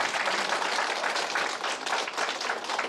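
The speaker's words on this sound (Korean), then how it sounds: "박수 한번 보세요" Audience applause at a rhythm dance club's regular gathering at Seoul Colatec, a dense, steady wash of many hands clapping at moderate volume throughout, without talk.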